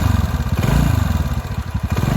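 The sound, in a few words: TVS Ntorq scooter engine revving with abnormal noise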